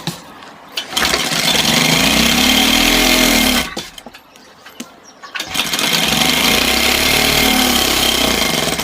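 A motorised sewing machine stitches a kurta seam with a loud, steady buzzing whir. It runs in two long bursts separated by a short pause, with no talk over it.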